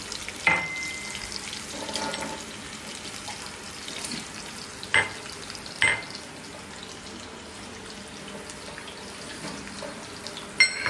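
An onion frying in a pan in a home kitchen: a steady sizzle runs throughout, broken by a few sharp clinks and scrapes of a stirring utensil, with no talking.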